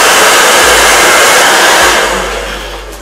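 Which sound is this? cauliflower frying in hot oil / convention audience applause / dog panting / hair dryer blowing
hair dryer blowing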